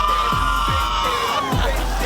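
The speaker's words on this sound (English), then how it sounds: "Is it okay if we scream?" A crowd of guests at a quinceañera party, an expensive celebration for a 15-year-old, shouts and cheers in a loud, sustained roar with rising whoops and children's cries mixed in.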